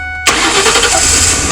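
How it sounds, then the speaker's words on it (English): A 2006 Ford E150 or F150 with a leaking intake manifold starts up, the engine catching abruptly and settling into a loud, close, steady running roar. "Let's fire it up to see how it sounds."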